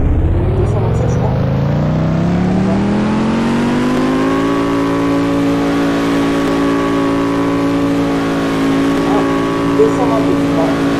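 Chevrolet Corvette ZR1 driven in a Roblox game, its engine tone rising loudly as it accelerates through gears then holding a steady high drone, with a person talking over it.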